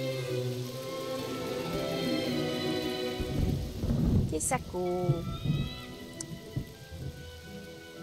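Steady rain patters and hisses in the Fable Anniversary game world, with a brief thunder-like rumble midway, while someone talks over it.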